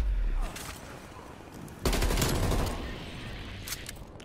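Automatic gunfire in the video game Black Ops Cold War, bursts of rapid shots with a loud burst near the start and a longer heavy one midway, fading into softer shots.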